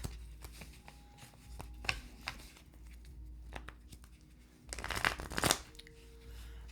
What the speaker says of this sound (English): I'm going to give a good shuffle now